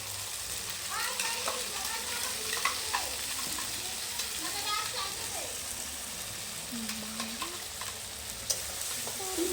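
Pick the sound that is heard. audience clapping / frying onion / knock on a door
frying onion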